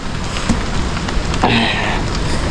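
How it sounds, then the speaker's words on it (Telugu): Heavy rain that has fallen since morning in Meghalaya, heard on the way to the double- and single-decker living root bridges: a loud, dense, continuous hiss of rain on surfaces, close and unbroken for a short stretch. "వర్షం అయితే బీభత్సంగా పొద్దుగల నుండి పడుతూనే ఉన్నది."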